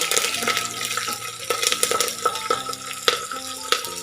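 Dried red and green chillies frying in hot tempering oil for batani uppittu, a loud close crackle and sizzle with sharp pops and spatters, continuing steadily with no voices.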